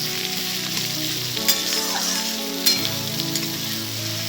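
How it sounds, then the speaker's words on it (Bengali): Chopped onions fry in a pan for mutton curry, giving a steady close sizzle with occasional stirring scrapes, without talk. "একটু লাল লাল করে ভাজা হতে দেবো পেঁয়াজটা।"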